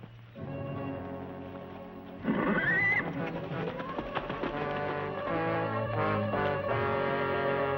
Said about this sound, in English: That horse was a runaway.